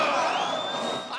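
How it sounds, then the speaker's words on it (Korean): Prisoners cheering at a prison film screening of the 1946 film Gilda as Rita Hayworth appears: a short, continuous burst of loud crowd whooping and cheering with shrill tonal voices riding on top. "재수자들은 리타 헤이워스가 등장하는 장면에서 환호성을 부르죠"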